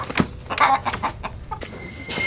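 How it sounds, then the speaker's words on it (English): An agitated rooster hollers and clucks in a string of short, loud, close calls while someone tries to catch it, with a rustle of movement between the cries. "I'm making the rooster mad, catching his hands. He's hollering at me."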